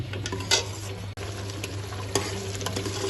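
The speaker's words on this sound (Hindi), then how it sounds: "दो चम्मच घी के, और इसकी बुनाई कर लेते हैं अच्छी तरह" Chicken fries in two spoons of ghee for dal gosht, a steady close crackle over a low hum, broken by occasional scrapes as it is stirred, with no voices.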